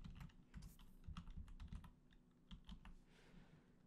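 Rapid clicking of computer keys in irregular bursts, close and fairly quiet, with typing at a steady pace throughout and no voices.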